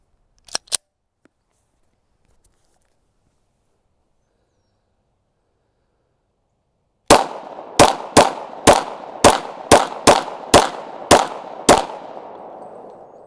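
Gunshots ringing off metal targets: two quick clicks open, then after a long silence about ten sharp, loud cracks follow at a steady, slightly uneven pace, each leaving a short metallic ring.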